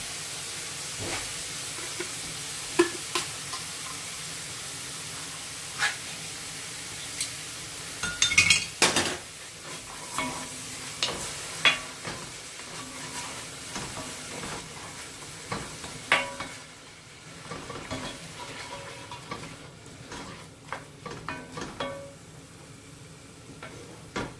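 Ingredients for chili con carne sweat over lowered heat in a pan, a steady soft sizzle and hiss broken by irregular clinks and scrapes of a utensil stirring against the pan, close up and without talk.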